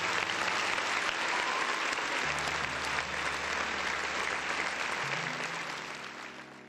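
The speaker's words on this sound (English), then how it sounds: "big round of applause to the folks in the chat" Dense applause from a crowd fills the stretch with steady, loud clapping and a faint low hum underneath, tapering off slightly toward the end.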